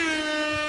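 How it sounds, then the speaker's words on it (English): A single loud, sustained air horn blast with a rich buzzing tone, holding steady for under a second. "Well, the horn. Yeah, the air horn."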